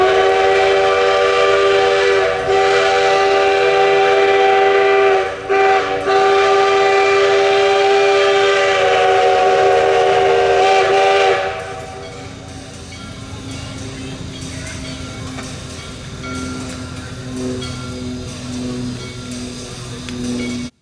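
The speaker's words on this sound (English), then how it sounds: "we heard the puffing and bell of the Shay coming around the curve" A Shay steam locomotive's whistle sounds long and loud with a short break, then gives way to rhythmic chuffing and rumbling as the train moves along around a curve at a steam museum.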